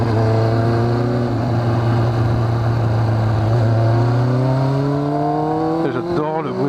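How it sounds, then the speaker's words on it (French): Kawasaki ZX6R (ZX636R) motorcycle engine holding a loud, steady droning note that slowly climbs in pitch as it accelerates, with a sharp shift in tone near the end, heard close and continuous. "j'adore le bruit de ce moteur."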